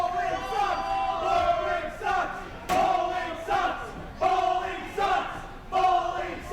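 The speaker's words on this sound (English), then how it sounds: "Crowd is chanting "bowling sucks" for those keeping track at home" Wrestling crowd at an IWC show chanting a rhythmic two-part insult in unison, loud and close, with the rising shouted phrases repeating roughly every one and a half seconds across the whole stretch.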